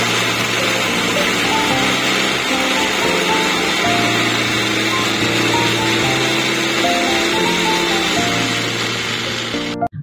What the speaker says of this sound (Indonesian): Kemudian ini kita masukkan ke chopper dan kita haluskan.